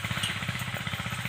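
A small engine powering an irrigation water pump runs steadily in a cornfield, its rapid regular thumping pulse loud and close, with no one talking.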